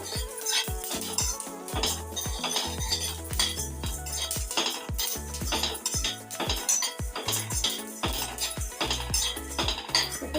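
Fenugreek seeds dry-roasting in a pan with coriander seeds, Telangana-style masala preparation: a steady run of sharp metallic scrapes and clinks from a spoon stirring against the pan, close and continuous with a faint sizzle underneath.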